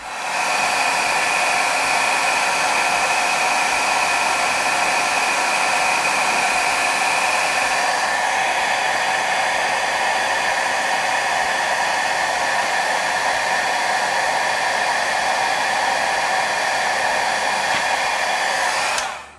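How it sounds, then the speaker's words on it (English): A handheld blow dryer warming a sticker on a cosmetics box so it peels off cleanly, making a loud, steady whirring roar held close for nearly twenty seconds, its tone shifting slightly partway through, with no talking. "I use my blow dryer to warm up the sticker so that it comes off without ripping the paper"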